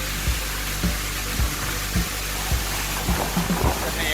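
Khlong Lan waterfall pours as a constant broadband roar with steady volume throughout, while faint low knocks and bumps recur close by beneath it.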